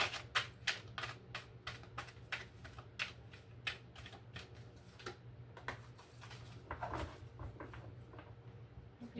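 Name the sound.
shuffling tarot cards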